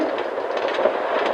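A toy train runs along a railway track with a steady, close rumbling clatter of wheels that continues without a break and with no voices.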